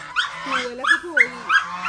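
A dog whimpers and whines nearby, giving several high, wavering cries in short bursts.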